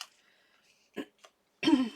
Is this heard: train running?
no